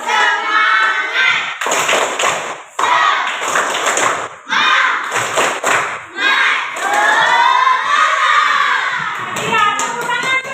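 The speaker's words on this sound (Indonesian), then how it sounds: "Ya, yang lain silakan tepuk semangat." A classroom of children performs the rhythmic 'tepuk semangat' clap chant, loud chanted voices in bursts broken by sharp group claps and thumps, with short gaps between phrases.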